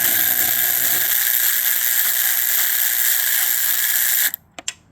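A ratchet spins in a long, continuous high buzzing whir while removing Torx screws from the air box of a 2003 Buell motorcycle, loud and close, then stops and leaves a few quick clicks.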